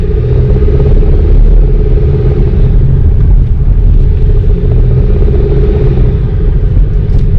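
Mountain road traffic of cars and motorcycles makes a steady, loud, close rumble of idling and slowly moving engines that drones on without a break.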